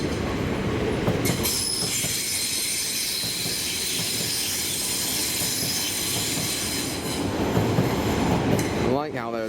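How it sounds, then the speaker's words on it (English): An LNER Azuma train rumbles loudly into a station at the National Railway Museum with continuous mechanical roar, metallic wheel squeal and clatter, ending in rising brake squeals close by. "And then I can hear there's another train coming in."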